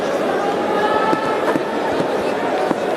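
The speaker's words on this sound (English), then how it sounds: "The crowd is really supporting South Africa." Cricket crowd at a South Africa versus Pakistan match cheering and chattering in a steady loud wash, with a few sharper shouts and claps breaking through.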